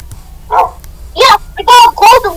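Dogs barking in short bursts, a few sharp yaps and woofs spaced close together and fairly near, with a voice chatting around them.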